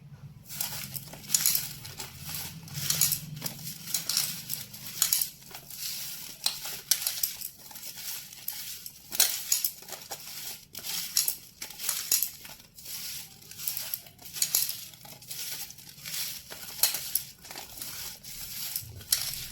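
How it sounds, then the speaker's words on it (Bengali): Cut mango pieces being mixed by hand with salt and turmeric for a Bengali mango pickle, giving continuous soft squelching, crinkling and pattering textures in irregular bursts. "আমটা ভালো করে মাখা হয়ে গেছে"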